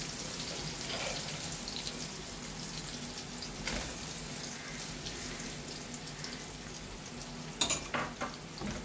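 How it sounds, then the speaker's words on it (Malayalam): Cooked rice for a hamour fish biryani shallow frying in a pan, giving a steady low sizzle throughout, with a sharp clatter near the end as a utensil knocks the pan. "ഇതൊന്ന് ഷാലോ ഫ്രൈ ഒക്കെ ചെയ്യില്ലേ, അതുപോലെ ചെയ്തെടുക്കാം."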